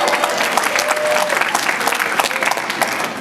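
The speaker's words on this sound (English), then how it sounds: "So give yourselves a round of applause." Dense audience applause fills a New York City civic gathering with the mayor present, many hands clapping steadily and close for the whole stretch with a few louder bursts standing out.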